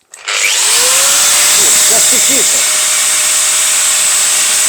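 A DeWalt 4257 angle grinder spins up from silence with a rising whine, then runs loud and steady at full speed, with brief faint voices under it.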